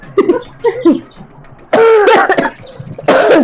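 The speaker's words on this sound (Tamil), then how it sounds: "தும்பல இருமல் தான் வருதுடா." Close, loud bursts of coughing and throat clearing from someone who has inhaled pepper powder. Harsh fits come in a few clusters with short gasps between them.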